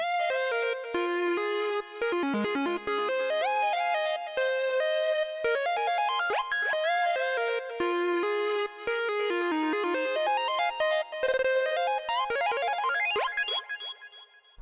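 An FL Studio synth lead for a new jazz beat, run through a flanger and delay, plays a busy, gliding melody of bright tones with sliding pitch bends and echoing tails, continuous and fairly soft throughout, rising into a denser flourish near the end.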